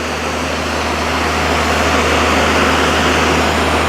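A cold-water diesel trailer jetter running at 4000 PSI, 18 gpm: a loud, steady engine drone with a broad hiss of high-pressure water, continuous and close with no talk.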